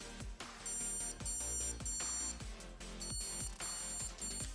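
Repeated electronic power-loss alarm beeps on a motorcycle trackday when track power goes out, in a steady pulsing rhythm, shrill and insistent, sounding alone without any talking.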